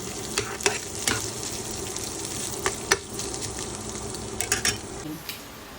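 Meat sizzles steadily in a hot pan for chopsuey, with a continuous close frying hiss broken by scattered clicks and scrapes as it is stirred.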